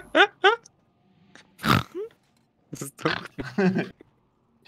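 A person imitates pig grunts and oinks in short rough bursts, close and loud, mixed with other voices talking and laughing in between.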